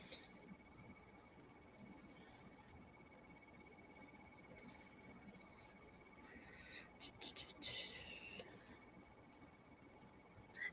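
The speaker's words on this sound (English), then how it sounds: "Let me write it down." Writing by hand, with light scratching pen or pencil strokes and small taps in short bursts at close range, quiet against a faint background hum.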